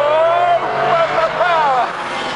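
A McLaren F1 engine at speed on a track in sixth gear, a loud sustained rising howl that dips and climbs again as it keeps accelerating, up close from inside the car.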